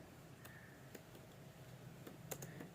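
Keys click softly on a computer keyboard as text is typed, with scattered, irregular taps over a faint background hiss in a quiet room.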